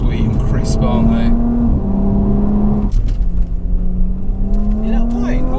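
An Audi S5 turbo engine pulls hard under acceleration, its steady rising drone dropping at a crisp gear change and climbing again, loud and close from inside the car, with people talking over it.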